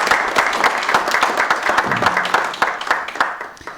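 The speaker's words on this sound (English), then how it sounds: "if we could all give them an extra round of applause," Audience round of applause at an Irish rare breeds gathering, brisk, steady clapping with distinct individual hand claps, tapering off at the end.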